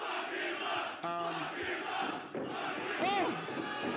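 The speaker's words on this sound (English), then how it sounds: "I hear that crowd." Wrestling arena crowd at an independent pro wrestling show, a dense roar of cheering and shouting that swells throughout, with individual whoops and yells rising above the din.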